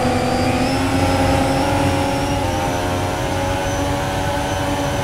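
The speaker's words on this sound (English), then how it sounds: "Oxy in his Renault has done good this race." A Renault race car engine in the Roblox racing game Vietnam GP qualifying drones at a steady, high-revving pitch, loud and continuous with no talk.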